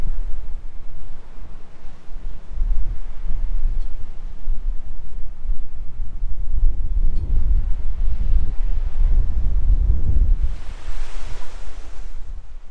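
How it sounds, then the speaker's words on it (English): Strong wind roars and buffets the microphone over steady ocean surf at a pier in Port Orford, Oregon, with waves swelling louder near the end and no one talking. "The wind is just screaming"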